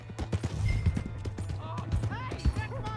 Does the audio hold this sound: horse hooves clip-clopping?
yes